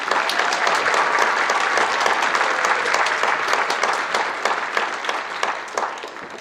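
Sustained applause fills the hall at a university spring gala at Western Michigan University: a thick wash of many hands clapping, loud at first and easing slightly toward the end.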